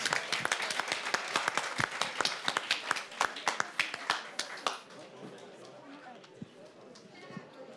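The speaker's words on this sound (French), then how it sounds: "Oui, applaudissez-les quand même." A crowd applauds with dense, lively clapping that fades after a few seconds into scattered claps and low murmuring, at a youth book prize ceremony in Saint-Maur.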